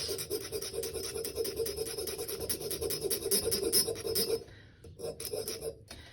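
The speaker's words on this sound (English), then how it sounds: "I'm going to file one of the sides completely flat" A metal file rasps rhythmically across the flat side of a ring shank braced on an anvil, close and steady strokes for several seconds before stopping, leaving a couple of faint clicks.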